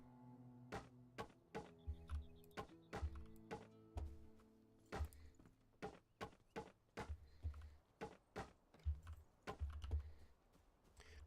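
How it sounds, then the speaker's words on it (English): A computer keyboard being typed on and thumped during a live stream, with irregular loud clacking keystrokes and heavy thuds, close and alone without speech. "Did you guys hear my keyboard just slamming around?"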